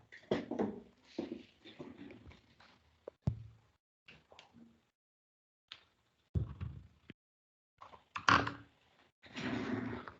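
A door being pulled shut in a classroom during an electrical installations lesson, giving a few sharp thumps and knocks among scattered handling sounds and brief pauses, with a final louder bang near the end.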